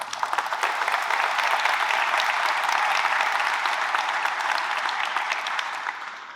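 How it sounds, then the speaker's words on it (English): An audience at an Army promotion ceremony for a brigadier general claps in a sustained, dense round of applause that holds steady and then begins to taper at the end. "give them all a big round of applause"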